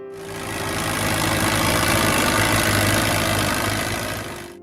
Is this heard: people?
no